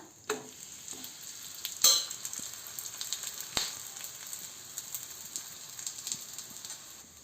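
A drumstick-leaf adai made with health-mix flour sizzles and fries steadily on a hot pan with oil, with a few scraping stirs and clacks of a spatula turning it.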